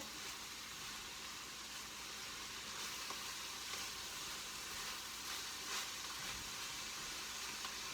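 Kale sautéing and being stirred in a pan gives a steady, faint sizzling hiss that runs unbroken throughout, with no talking.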